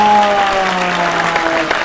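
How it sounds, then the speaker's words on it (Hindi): Audience applause at a youth mushaira in New Delhi, a loud, sustained wash of many hands clapping together with crowd murmur underneath, steady from start to finish. "जोरदार तालियां हो जाएं"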